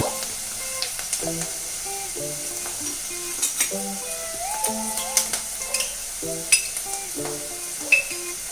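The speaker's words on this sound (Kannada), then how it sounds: "ಇದನ್ನ ನಾನು 1 ಮಿನಿಟ್ ಫ್ರೈ ಮಾಡ್ಕೊತೀನಿ." Ginger garlic paste frying with onions in a brass pan gives a steady sizzle with scattered scrapes and clinks of stirring, moderately close, with no voices.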